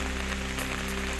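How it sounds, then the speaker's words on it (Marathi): Heavy monsoon rain pours down in Gondia district, Maharashtra, a dense, unbroken hiss of rain on surfaces at a constant loud level, with a faint electrical hum beneath it. "गोंदिया जिल्ह्यामध्ये मुसळधार पावसानं हजेरी लावली."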